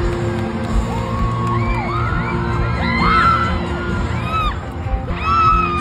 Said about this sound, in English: Screaming, crying.